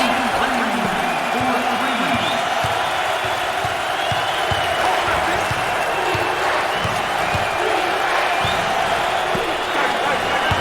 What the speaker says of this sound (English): Wow, listen to those fans. The crowd is thunderous.